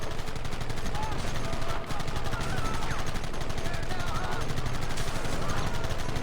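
Red Dead Redemption gunfight with continuous rapid gunfire, steady dense shots crackling throughout against a busy background of combat noise.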